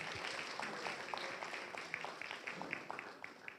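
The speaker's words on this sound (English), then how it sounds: "I want you to give yourselves a big graduation round of applause for all of your accomplishments." Graduation celebration applause at UW Tacoma's Umoja ceremony, a faint, distant crowd clapping steadily in a large room, with a few louder individual claps standing out.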